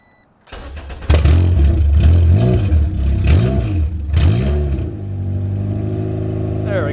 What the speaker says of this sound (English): it doesn't have an idler control valve right now, so it's a bit of a rough cold start